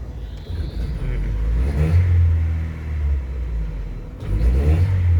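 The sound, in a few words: car engine revving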